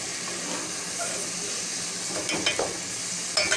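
Meat and mixed spices sizzling in hot oil for achar gosht, a steady close frying hiss with a few sharper crackles and spatters near the end; no voices.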